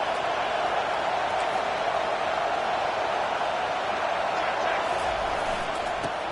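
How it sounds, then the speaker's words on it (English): A college football stadium crowd in the NCAA 25 video game roars as a broad, steady, loud wash of noise on third down, with no break and no clear individual voices. "Decibels rising as the crowd gets behind this defense on 3rd down."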